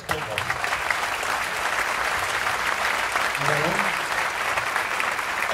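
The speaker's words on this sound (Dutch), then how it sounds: "Even een klein stukje applaus voor." An outdoor festival crowd on a town square in Barneveld, marking a 40th anniversary, claps steadily throughout, a broad sustained applause with a voice briefly audible beneath it.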